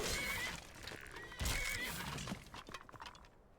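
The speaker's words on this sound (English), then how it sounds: "Good job, Horsey was running fast." A horse whinnies loudly in the Elder Scrolls Online video game, the neigh rising at the start and returning near the middle, with hoof clatter and game effects trailing off toward the end.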